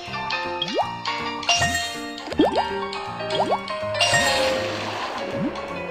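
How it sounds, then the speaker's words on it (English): Cartoon water filling up pipes, rendered as bubbly rising plops, drips and tinkling chimes in quick playful bursts over a bright musical backdrop, with no talk. "Water is filled up."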